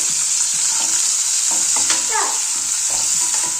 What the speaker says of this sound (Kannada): ಈರುಳ್ಳಿ ಸ್ವಲ್ಪ ಎಣ್ಣೆ ಒಳಗೆ ಫ್ರೈ ಆಗಬೇಕು